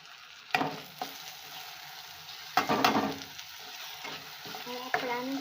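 Onions and tomatoes fry in a pan for a pasta dish, giving a continuous sizzle broken by several loud stirring and scraping bursts up close, with no talking.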